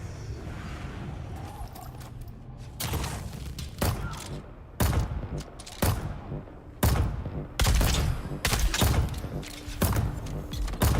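Turrets fire in the video game Dune: Awakening in repeated loud bursts and thumping volleys, separated by short gaps, with mechanical clanks between shots.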